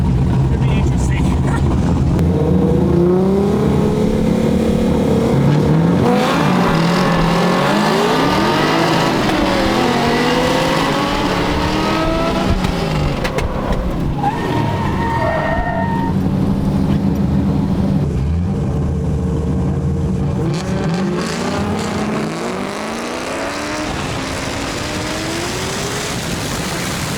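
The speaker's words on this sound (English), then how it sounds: "now we're basically drag racing to the end" An LS3-swapped Mazda Miata drift car accelerates hard in a drag race to the finish at a drift day, its loud engine revving and droning steadily up through the gears with other engine noise, and people talk over it.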